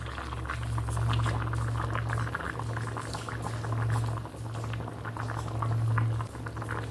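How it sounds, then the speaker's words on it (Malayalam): A pot of curry made with coconut oil boils vigorously, giving a dense, steady bubbling and popping with a low rumble from the stove beneath, continuous and close. "നന്നായിട്ട് തിളച്ച് വന്നിട്ടുണ്ട്"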